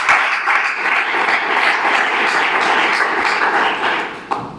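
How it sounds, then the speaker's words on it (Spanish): A church congregation applauds, dense clapping holding steady and loud for several seconds before tapering off, with no talking over it. "¿Cuántos dan un fuerte aplauso a aquel que vive y que reina con los siglos?"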